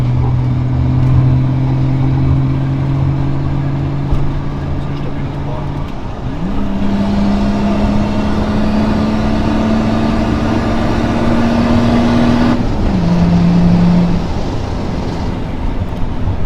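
A BMW E34 sedan carrying four people pulls hard through the gears, its engine tone climbing steadily with shifts breaking the rise, heard from inside the cabin with occasional talk.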